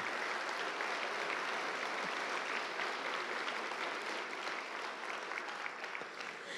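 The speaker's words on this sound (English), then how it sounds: "Let's get a round of applause for those." An audience at an awards ceremony for a miniature painting open competition gives a steady round of applause, dense clapping filling the room at an even level throughout without a break.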